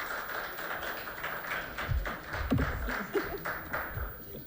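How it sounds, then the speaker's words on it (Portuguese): Audience at a workplace talk on mental health applauds a lecturer, with scattered, fairly light hand claps and taps coming in irregularly rather than as a full roar. "Por favor, uma salva de palmas para a doutora Márcia Gonçalves."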